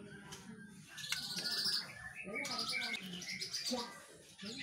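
A male white-rumped shama sings nearby in bright whistles and quick chirps, with short pauses between phrases.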